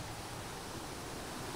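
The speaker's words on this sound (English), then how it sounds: "Lovely stream, look. You can definitely hear that. Oh, it's a bit of a waterfall there, look." A small woodland stream with a little waterfall at LadyGrove Woods, Darley Dale near Matlock in the Peak District, giving a steady, soft, continuous rushing wash with no other sounds.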